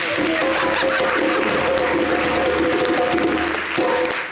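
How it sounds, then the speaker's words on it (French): A TV studio audience claps steadily throughout, fairly loud and continuous, with a faint tonal background beneath the applause. "Est-ce qu'on peut applaudir, s'il vous plaît?"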